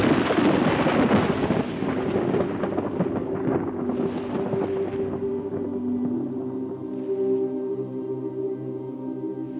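Heavy thunder rolls through a howling storm, a loud sustained rumble that gradually fades with lingering low rumbling and no voices.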